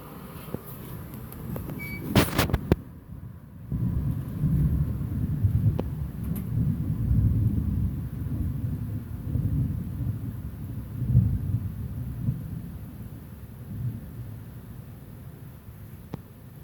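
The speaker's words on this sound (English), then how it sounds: "So you hear the thunder" Thunder in a morning thunderstorm rumbling low and long after a sharp crack, a broad rolling roar that swells and fades over many seconds, heard from indoors without voices.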